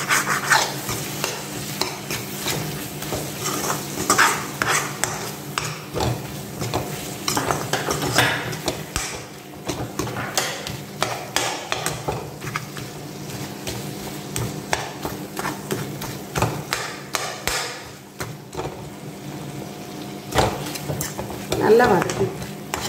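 Tomatoes with salt being sautéed in a pan for prawn thokku, a spoon stirring and scraping steadily against the metal over a continuous close sizzle, with occasional clinks.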